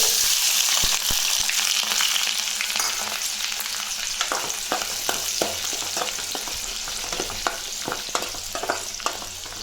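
Small onions fry in hot oil in a kadai, a dense, steady sizzle with scattered crackles and pops that thicken toward the end, close and loud with no talking.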